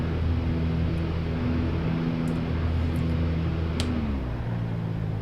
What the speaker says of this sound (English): And now I'm going to throttle the engines back.